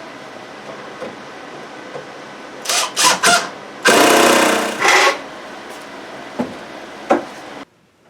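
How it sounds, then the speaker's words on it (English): A power driver whirs in several short bursts, then one longer run, while driving screws to secure a fan in place; the bursts sit close and loud with quiet gaps between them. "I want to put some screws in here just to secure this in place."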